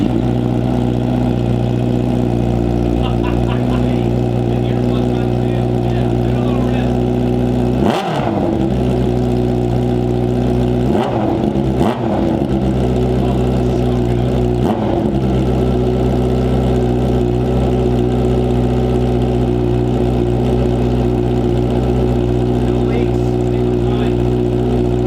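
A Honda CB650R motorcycle runs with no muffler on a straight-pipe exhaust, a loud steady idle with a deep throbbing drone, broken by a few sharp throttle blips and revs.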